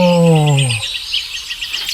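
Bee-eater birds call at their nest holes: one loud, drawn-out call slides downward, followed by a scatter of quick, high chirps close by.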